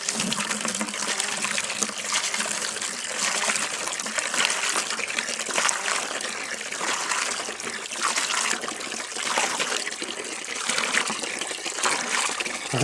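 A homemade hand well pump sends water gushing and splashing in a steady, close flow with slight surges from the pumping, and no voices over it.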